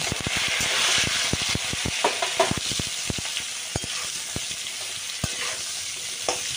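Spiny gourd pieces fry in a pan with salt and turmeric, a constant close sizzle punctuated by rapid, uneven scraping taps of a spatula stirring.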